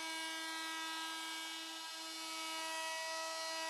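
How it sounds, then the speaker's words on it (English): A FEIN MultiMaster oscillating tool sands a worn boat surface with a large sanding disc and fine-grit paper, giving a steady, high-pitched, faint buzzing whine with no break. "Preliminary sanding is carried out with 500 and 1000 grit sandpaper and the large sanding disc."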